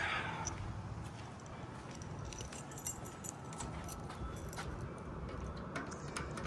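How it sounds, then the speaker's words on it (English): Car keys for a 1965 Oldsmobile Cutlass jangle in short, light metallic rattles scattered through the clip over a low outdoor rumble, quiet and fairly close. "Let me get the keys real quick."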